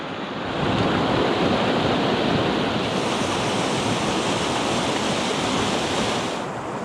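A steady, full rush of a waterfall on Castaway Island, Georgian Bay, roars on without pause, dense and close, with no voices over it.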